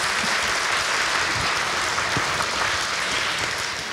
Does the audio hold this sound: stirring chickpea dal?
no